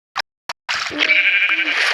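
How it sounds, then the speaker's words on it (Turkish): A sheep bleats in a video game, one drawn-out, wavering bleat that follows two short clicks, loud and close. "Şimdi bu koyun"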